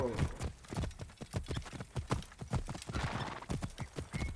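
A horse gallops and neighs in the video game Assassin's Creed Origins, with steady, loud, rhythmic hoofbeats and a whinny near the start, all close and up front.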